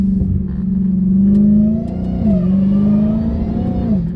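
A Dodge Challenger Hellcat Redeye with an 800 hp engine revs up close, a loud deep rumble that rises and holds, dips briefly, then climbs again.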